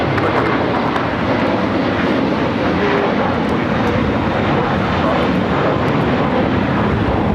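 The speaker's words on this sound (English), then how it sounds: "This is American Airlines 1230 taking off to Dallas Fort Worth on the A321." An American Airlines Airbus A321 takes off from LAX bound for Dallas Fort Worth, its jet engines a loud, steady broadband roar that holds unbroken throughout.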